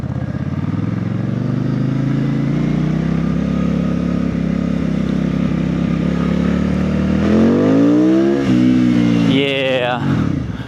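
A Benda 707 motorcycle engine revs loud and close while being ridden, with a steady throbbing drone rising and falling in pitch through repeated throttle sweeps toward the end.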